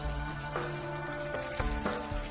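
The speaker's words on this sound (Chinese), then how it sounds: "再利用五花肉的油把豆腐煎一下" Tofu slices fry in rendered pork belly fat in a hot wok, giving a steady close sizzle with a few soft scrapes and stirring knocks.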